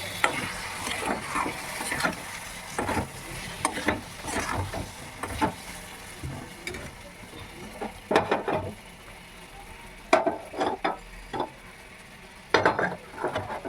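Sugar and grated jaggery for amla pickle being stirred in a pot, with irregular scraping and clinking of a spoon against the vessel and brief pauses between strokes.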